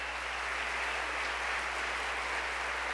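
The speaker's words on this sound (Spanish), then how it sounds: "déle ese aplauso fuerte al que vive" Church congregation applauding during a sermon, a dense, steady wash of clapping that holds at an even level throughout, with no voices above it.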